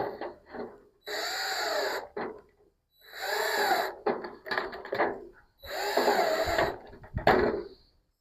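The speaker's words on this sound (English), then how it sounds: "now I'm just going to put 4 screws where those holes are" A power drill drives screws into the base of a gutter on a Yardistry gazebo. It whirs in several separate bursts that rise and bog down, with short pauses and handling noises between them.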